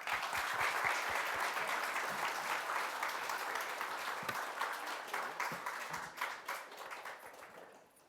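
An audience claps for the distinguished panelists at a Lithuanian fintech ecosystem event, with dense, sustained applause from many hands that holds steady and then thins and fades out toward the end.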